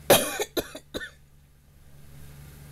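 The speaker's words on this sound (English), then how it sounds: "Excuse me, I got a cough again." A person coughs three or four times in quick succession at close range, sharp bursts over the first second, then the room falls quiet.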